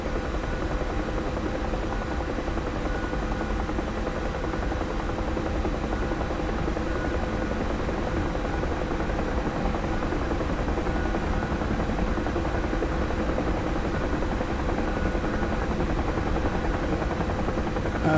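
A UH-1 Huey helicopter flies in the DCS World simulator, its rotor and turbine making a steady, loud, unbroken drone that fills the whole stretch with no voices.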